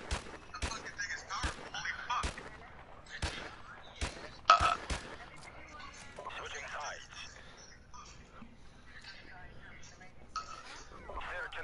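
Several sharp G3 rifle shots ring out in a video game, spaced irregularly across the opening seconds with a closely grouped pair in the middle, while people talk over and between them.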